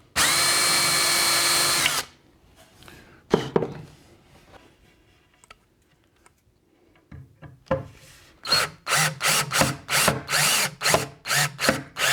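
A power drill bores a hinge hole deeper into a kitchen sink cabinet door, first a steady two-second whine, then quiet handling and clicks, then a run of short, repeated drill bursts.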